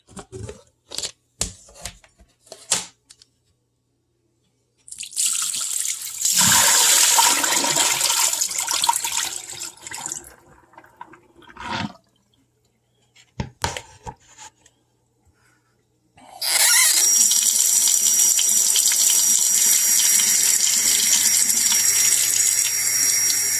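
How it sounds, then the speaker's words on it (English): Tap water running over brined goose breasts in a sink, two long loud bursts of rushing water separated by quiet handling clicks and taps, with no talking. "Just going to do a little bit of rinsing off of the brine and just letting it let the water soak through."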